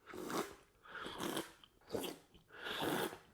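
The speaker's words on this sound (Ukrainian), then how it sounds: "Ну що ж, давайте будемо сьорбати." Coffee slurped loudly from a cup during a tasting of brews ground in a 1Zpresso Q2 hand grinder, four separate drawn-in slurps about a second apart, close and without talk.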